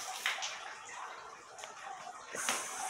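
A kitchen faucet runs in a steady, fairly quiet rush of water with light splashing and gurgling throughout, heard on its own without talking.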